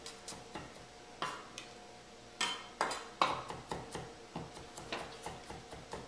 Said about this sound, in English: So take some garlic, chop this up, mince it up pretty fine.